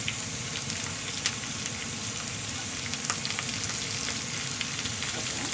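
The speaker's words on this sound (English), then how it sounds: "So now I'm going to put the onions." Onions sizzle steadily in a pan with ginger for black chickpea curry, a dense, even frying hiss with small crackles and a few light spatula taps, and no talk.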